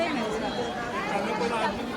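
Devotees queuing in a packed line at Jotiba temple, Kolhapur: continuous close crowd chatter and murmuring, with a voice speaking over the din.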